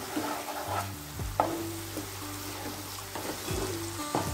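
Tomato masala sautéing in a pan for a rice dish, a soft sizzle under intermittent spoon scrapes and light knocks against the pan, close and fairly quiet, with a low hum throughout.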